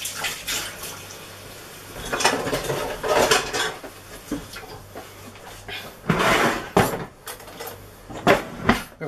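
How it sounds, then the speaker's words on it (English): Metal spoons and cutlery clattering and rattling in a kitchen drawer as a spoon is picked out, several bright clinks in irregular bursts, close and fairly loud, without speech. "Now, I'm going to get a spoon."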